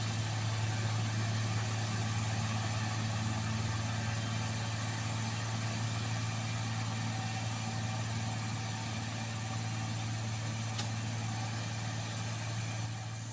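Isuzu truck hauling palm fruit bunches uphill, its engine a steady low droning hum that stays constant and fairly close throughout, with no talk.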